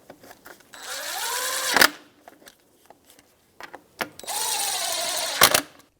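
Ratchet with a 10mm socket fastening the back cover on a 2004-2009 Subaru Outback, two bursts of rapid clicking each ending in a sharp snap, close and fairly loud.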